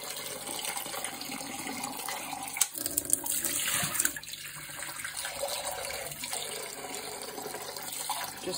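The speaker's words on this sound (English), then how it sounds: "So I'm starting with a bit of warm water on the inside jug." Warm water runs from a tap into the inner jug of an ice wine cooler: a steady faint hiss of flowing water with a brief clunk partway through, no talk.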